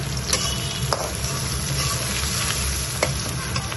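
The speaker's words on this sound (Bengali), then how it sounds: "পেঁয়াজগুলো লাল লাল হয়ে যেতে ভাজা হয়েছে।" Onions fry in a pan with a steady, close sizzle. A few sharp clicks from stirring break through the hiss.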